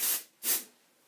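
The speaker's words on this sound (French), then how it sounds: "c'est vaporisé dans les longueurs et froissé délicatement à pleine main. Donc en fait c'est un, vous savez, un spray un peu à l'eau de mer" Two quick hissing bursts of sea-water hair spray misted from a pump bottle, the first about a quarter second long and the second after a short pause, close and fairly loud, then a faint tail.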